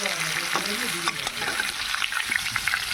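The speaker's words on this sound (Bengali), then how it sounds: "এখানে হচ্ছে আলু ভাজছি" Potatoes frying in a pan over a gas stove, a steady close sizzle with soft stirring and scraping throughout.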